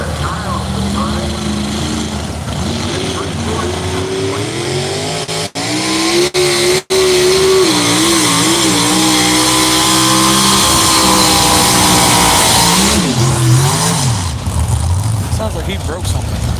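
Loud, sustained engine roar from a pulling tractor at an ECIPA tractor pull championship in Rockwell, Iowa, the pitch climbing and wavering under heavy load, with brief dropouts and a fading tail near the end.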